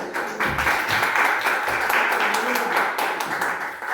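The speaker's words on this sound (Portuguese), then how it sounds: "Vamos aplaudir o Senhor" Church congregation clapping together in steady, continuous applause, close and lively, filling the space over a steady background.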